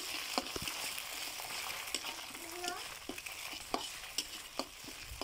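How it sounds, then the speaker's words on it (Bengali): Egg and onion frying in a pan, turned with a metal spatula: a soft steady sizzle broken by repeated scraping strokes and light clinks, close and fairly quiet. "আমি এটাকে খুন্তি দিয়ে ভালোভাবে নেড়ে চেড়ে নিচ্ছি।"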